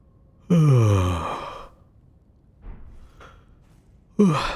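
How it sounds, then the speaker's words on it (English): A long, loud voiced yawn with a falling, drawn-out tone, fading out, followed by a couple of faint thumps and a second yawn-like breath starting at the end, close to the microphone. "Big yawn."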